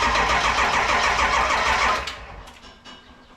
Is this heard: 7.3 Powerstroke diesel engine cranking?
yes